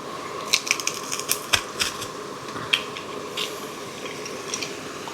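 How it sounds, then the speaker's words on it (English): A large garlic clove is pressed through a garlic press in a home kitchen, giving a series of small crunching clicks and squeezing creaks at an irregular pace, close by, with no talking. "we are going to put those through a garlic press"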